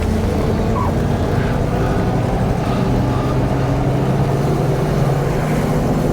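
A Dual Ghia 400 car engine drones steadily from inside the cabin while driving at an Arizona auction week, a loud, even low rumble mixed with road noise and no talk.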